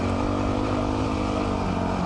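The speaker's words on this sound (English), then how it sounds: "Oh, and downshift." A motorcycle engine drones steadily and loudly, holding a constant buzzing rev close by, with no clear shift change heard and no talking.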